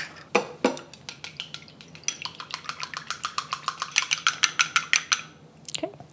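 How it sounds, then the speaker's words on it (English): Rapid rhythmic clinking of chopsticks whisking two eggs in a bowl, close and fairly loud, a steady train of sharp taps after a few opening knocks, with no talking. "I need 2 eggs. I'm just going to beat them."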